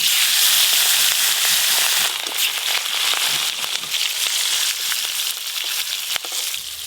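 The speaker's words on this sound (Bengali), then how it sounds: "ইলিশ মাছগুলো খুব হালকা করে ভেজে নেব।" Hilsa fish pieces fry in hot oil with a loud, steady crackling sizzle, close up, occasional sharper pops breaking through the bright hiss.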